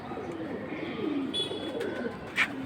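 Pigeons, including high-flying breeds, coo at a pigeon market, with soft warbling calls and a few brief chirps over a steady low background murmur.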